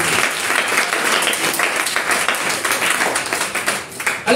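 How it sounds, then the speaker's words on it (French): A church congregation in Togo breaks into sustained loud applause and cheering for Jesus during an evangelical sermon on keeping faith amid persecution. Dense clapping fills the whole stretch, with a brief dip near the end. "Si tu es d'accord avec elle, acclame pour Jésus."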